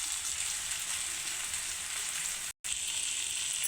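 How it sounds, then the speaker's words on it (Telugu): Okra pieces, tomato and onion fry in a pan with a steady, dense sizzle and crackle at close range. There is one brief dropout, and no one speaks. "టమాటా, ఉల్లిపాయ కూడా మనకి బాగా ఫ్రై అయిపోయింది. బెండకాయ ముక్కలు కూడా వేసుకున్నాం."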